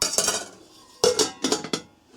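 A Stanley 1-litre stainless steel camping pot clanks and rattles in a few sharp, close bursts with short pauses between, like cookware being handled and knocked together.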